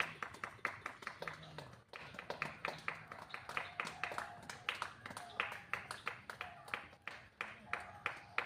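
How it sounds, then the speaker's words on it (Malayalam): A group of people clap together in a room during a party game, steady sharp claps running the whole stretch, with voices talking now and then under the applause. "എല്ലാരും കൈയടിച്ചു കൊടുത്തേ"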